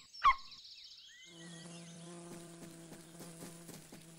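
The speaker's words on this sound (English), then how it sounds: "It's the honeybee." A honeybee from a children's wildlife cartoon, a sharp blip followed by a soft, steady buzzing hum with faint rhythmic pulses, quiet and close.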